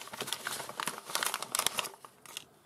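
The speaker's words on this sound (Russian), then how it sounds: "Их надо вот так раздирать." Plastic zip packaging holding a chainmail anti-cut glove is torn open, a burst of close crackling and crinkling with sharp irregular rips across a couple of seconds.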